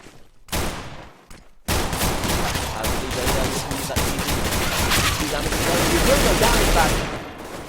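Pistol gunfire during a Counter-Strike eco round, where CZ handguns are among the weapons: after a brief near-silent gap, a dense, continuous volley of rapid shots rattles on loudly for several seconds.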